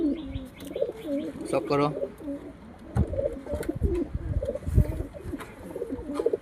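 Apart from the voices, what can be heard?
pigeons cooing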